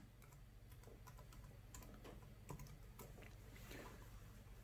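Quiet, irregular key taps from typing on a computer keyboard while entering text in Microsoft Word, soft clicks scattered over a low steady hum.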